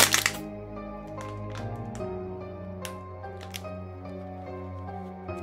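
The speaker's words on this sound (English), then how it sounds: "I'm trying to open up this crinkled water bottle" Crinkled plastic water bottle being twisted open, a burst of sharp crackling at the start followed by scattered crinkles and clicks over a steady musical background with a held low drone.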